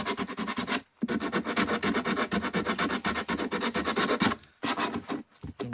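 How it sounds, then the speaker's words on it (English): Coarse 80-grit sandpaper rubs across a foam sculpture, a rapid rhythmic scratchy rasp of quick back-and-forth strokes, close and loud, stopping briefly twice before resuming, with no speech. "80 grit cuts right down to that foam and takes that orange skin off"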